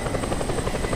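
Helicopter in the open-world game Just Cause 2, a steady loud rotor drone with rhythmic blade thumping throughout, close and continuous with no voices.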